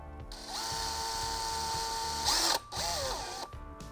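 A power driver runs steadily, briefly pausing and restarting as screws are driven back into the mass airflow sensor on a Lexus IS250/IS350, heard close up and alone.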